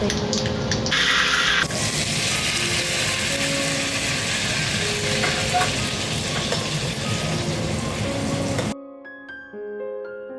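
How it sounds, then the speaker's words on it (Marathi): An electric mixer grinds coconut, salt, peanuts, garlic and cumin into a chutney for poha dosa, giving a loud, steady whir for about nine seconds before cutting off abruptly into near-silence. "खोबरे मीठ शेंगदाणे लसूण जिरे बारीक वाटून घ्यावे"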